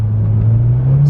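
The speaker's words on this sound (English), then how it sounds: "So I wanted to show you guys how quick it actually downshifts." A Mitsubishi Evo engine revs loud and close during a quick downshift, its pitch rising steadily in one short, smooth climb with no voices.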